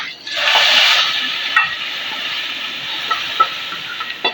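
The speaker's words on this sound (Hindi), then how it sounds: "तड़का देने लगी हूँ।" Steady loud hiss of a tadka, spices crackling into hot oil over browned onions for chicken nihari, close up, with a few small pops and spatters as it settles.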